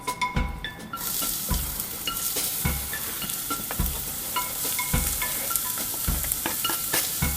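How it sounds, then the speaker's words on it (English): Diced onions fry in hot olive oil with a loud, continuous sizzle, punctuated by regular dull thumps of stirring roughly every second. "So when your oil is hot, add your diced onions."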